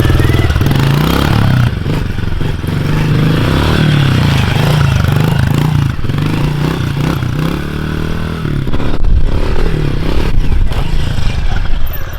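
A pit bike motorcycle engine idling and revving close by, a loud steady rumble with fluttering pitch rises and clattering, continuous throughout with no clear talk over it.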